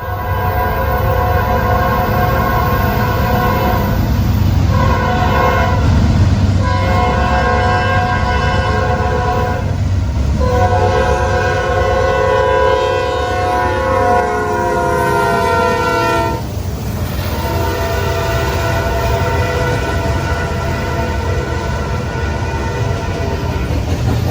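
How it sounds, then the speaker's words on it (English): Norfolk Southern train 248 rolls into Locust Grove behind NS 4000 in gray and blue paint, sounding a loud horn in several long blasts over the constant close rumble of the passing train. "This is train 248 coming into Locust Grove, which, coming to my surprise, had NS 4000 leading in its striking gray and blue paint scheme"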